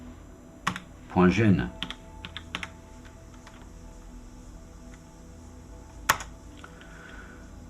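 Typing on a computer keyboard while editing a file in vim during an Arch Linux installation, with scattered sharp key clicks across the clip. Someone speaks briefly near the start.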